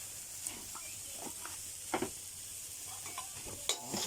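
June beetles frying in hot oil, a steady soft sizzle with occasional scraping stirs and light pops, close and moderately quiet with no talking.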